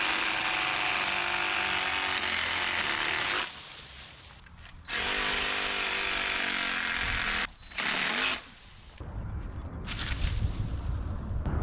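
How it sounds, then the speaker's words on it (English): Sawzall reciprocating saw cutting tree branches outdoors, a loud sustained buzzing whine that stops and restarts several times, with rougher cutting noise toward the end. "That's how you properly use a sawzall."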